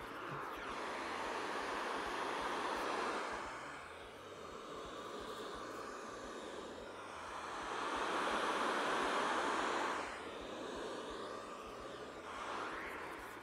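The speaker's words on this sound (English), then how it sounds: "white noise test." Broadband white noise played through a budget cardioid microphone as a test, rising and falling in level as the source moves around it, with no talk.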